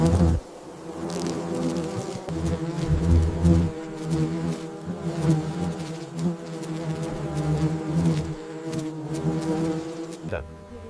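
Paper wasps swarm loudly and close while defending their nest against a giant huntsman spider, a dense, continuous, wavering buzz of many wings with no talk.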